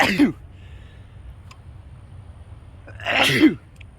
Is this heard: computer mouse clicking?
no